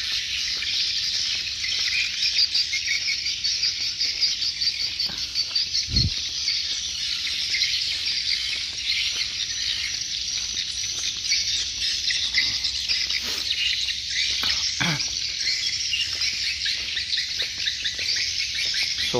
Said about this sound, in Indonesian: Suara walet